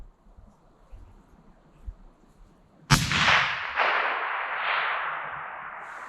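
A single loud crack from a 300 Win Mag sniper rifle fired outdoors, bursting out of quiet ambient noise and followed by a long, rolling echo that slowly fades over several seconds.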